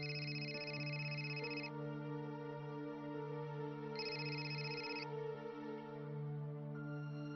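A telephone rings in a steady electronic tone with a sustained harmonic melody, loud and continuous, with no talk.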